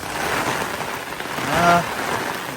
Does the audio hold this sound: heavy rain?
yes